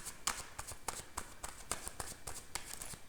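Tarot cards shuffled by hand, a rapid irregular series of crisp riffling slaps and flicks, close and fairly quiet.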